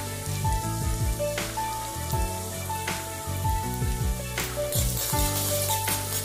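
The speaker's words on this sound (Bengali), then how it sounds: "এবার আদা কুচি আর রসুন কুচিটা ভেজে নেব।" Chopped ginger and garlic fry in hot oil in a kadai for dal tadka, crackling and sizzling continuously with sharp pops and spatters, close and lively.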